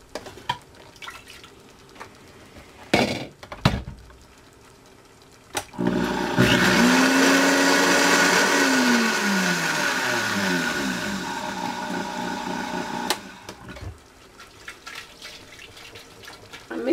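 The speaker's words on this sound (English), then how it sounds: "And my Vitamix." A Vitamix blender blends keto mushroom soup with a loud whirring roar lasting several seconds, its pitch shifting as the mix thickens, with quieter kitchen clatter before and after.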